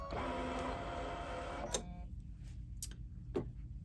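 A sewing machine stitches with the presser foot lowered while sewing a bunny silhouette, running in one steady mechanical burst for under two seconds before stopping, followed by a few sparse clicks.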